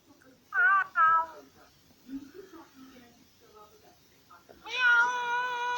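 A cat meows twice in short succession, then gives a longer, drawn-out meow a few seconds later, with soft low murmurs in between.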